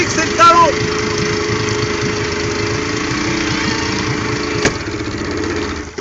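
A boat's outboard motor idles steadily with a low, uneven chug near the listener, then sputters and dies toward the end, with a brief knock midway and a short voice-like sound early on.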